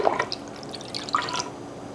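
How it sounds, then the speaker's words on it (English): Non-alcoholic Thanksgiving punch, made with soda water, being poured into a glass: a short, quiet liquid trickle with light drips and splashes, close by and with no talk. "And then I'm gonna turn this around and pour myself a little bit."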